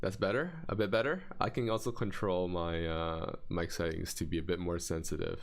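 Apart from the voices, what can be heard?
None of the usual background noises is heard.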